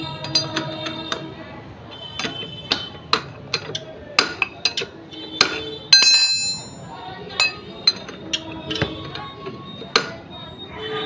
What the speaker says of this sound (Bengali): দেখুন আমি এখানে 22 নম্বর 24 নম্বর নাটটাকে খুলে নিচ্ছি চাকাটা গ্রিস করার জন্য।